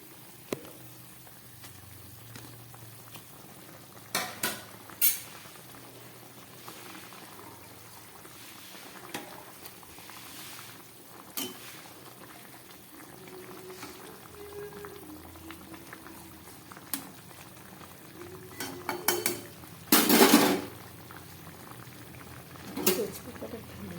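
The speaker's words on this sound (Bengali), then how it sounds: "মাছের ঝোলটা পুরো ফুটে উঠেছে এবার আমি মাছগুলো এর মধ্যে দিয়ে দিচ্ছি" Thin Bengali fish curry broth bubbling at a rolling boil in a pan as pieces of fish are dropped in, steady close bubbling with occasional clinks and splashes and a louder burst near the end, under intermittent talk.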